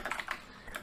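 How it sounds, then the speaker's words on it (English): Several quick keystrokes clatter on a new computer keyboard, close and crisp, in a brief uneven burst of typing. "It's very hard to type on this new keyboard."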